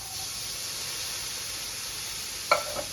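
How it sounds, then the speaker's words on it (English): Beans sizzle steadily in a hot frying pan, a continuous close hiss throughout, with a brief stirring clatter near the end. "Now we're going to add the beans. It's important to not let your pan get too hot."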